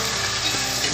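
Tomato and capsicum sautéing with bay leaf for paneer biryani, a loud, dense, close sizzle with faint stirring underneath, steady for the whole moment.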